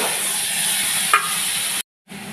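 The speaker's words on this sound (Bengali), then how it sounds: "এবার মশলাটা ভালো করে কষিয়ে নিতে হবে।" Spice paste made with grated tomato, turmeric, chilli powder, salt and green chilli sizzles and fries steadily in a pan, with a brief stir of a utensil partway through, close and continuous with no talk.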